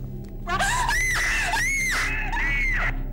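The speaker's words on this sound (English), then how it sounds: "I heard some screaming." A person screams at night in three loud, wavering, rising cries in quick succession, close and alone.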